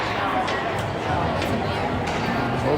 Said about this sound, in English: Pretty good crowd here at the Hopkins Pavilion today.